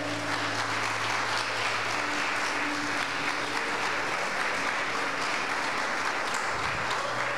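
Sustained applause from a church congregation fills the space, steady clapping with a few faint voices underneath, continuing evenly throughout.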